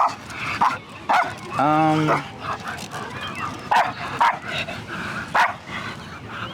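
A dog in training around other dogs lets out a short burst of yipping, whining barks near the middle, with people talking nearby before and after.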